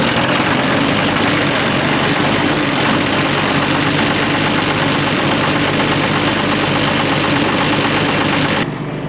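A farm vehicle engine idles steadily after a cold start, warming up with a loud, continuous rumbling drone and slight knocking texture, close by and without talk, cutting off abruptly near the end.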